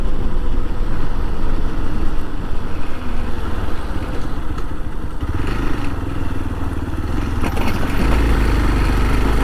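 A Hero Xpulse 200 4V motorcycle rides on a rough, broken road. Its engine gives a loud, continuous rumble mixed with rattling and wind, and the low drone thickens toward the end.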